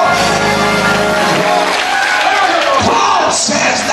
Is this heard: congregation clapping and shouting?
yes